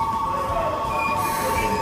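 Blue Shinkansen bullet train pulling into a station on the Osaka to Tokyo line, a steady loud rush with a high whine and faint wheel squeal, with no talk in the brief moment.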